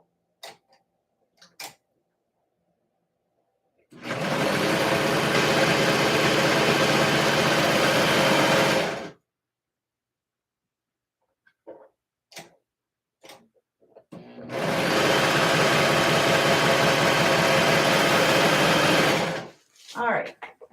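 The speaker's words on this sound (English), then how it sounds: "So this short edge and this short edge, you're going to serge them together." A serger sewing machine stitching short edges of skort fabric together, running loud and steady in two long bursts of several seconds each, with brief clicks and handling noises between them.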